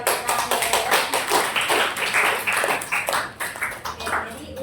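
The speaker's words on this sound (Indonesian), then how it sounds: "bisa dikasih tepuk tangan." Students in a classroom clap together in rhythmic, fairly loud bursts for a few seconds, fading slightly near the end.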